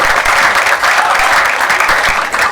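A crowd at an outdoor light rail groundbreaking celebration gives loud, sustained applause, many hands clapping in a dense, even roar that holds steady throughout.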